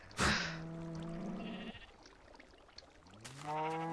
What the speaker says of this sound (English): There's loads of sheep around here.